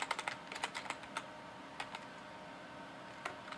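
Code being typed on a computer keyboard for game UI programming, a quick burst of light key clicks followed by a pause and a few more scattered taps, close and fairly quiet.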